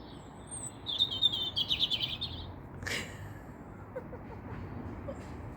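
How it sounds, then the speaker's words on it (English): Garden birds sing at dawn, with a bright burst of chirping and trilling in the first few seconds followed by a few sparser calls, fairly close over a quiet background. "the birds have just been so beautiful this dawning"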